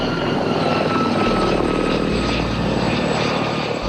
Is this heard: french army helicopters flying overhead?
yes